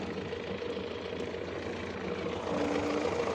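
A small homemade tractor engine idles steadily with a rough, knocking chug, close by and fairly loud, growing slightly louder toward the end; no talking.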